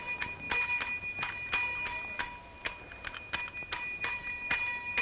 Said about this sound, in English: take that bell and put it away